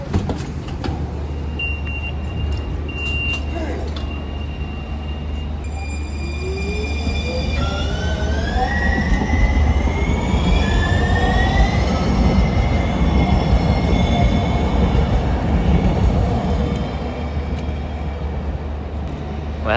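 A San Diego trolley rolls along with a steady low rumble while its wheels squeal in long rising and falling tones, loud and sustained inside the car.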